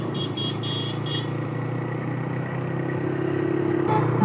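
A 125cc motorcycle cruises along a road at around 80 km/h, its engine a steady, even drone mixed with rushing wind, heard continuously up close from the rider's position with no talk.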